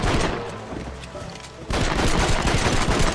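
Gunfire in Red Dead Redemption, a lighter exchange of shots that gives way to a dense, loud burst of rapid overlapping gunfire in the second half.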